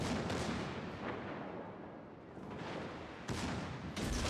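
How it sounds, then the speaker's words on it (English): Battleship guns firing in the naval video game World of Warships, heavy booming salvos rumbling at a distance with a couple of sharper blasts and a continuous low roar between, no talk. "he has this battleship over here that's now firing at him"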